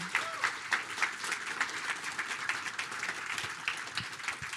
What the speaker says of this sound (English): Can you guys raise your hands and get a round of applause?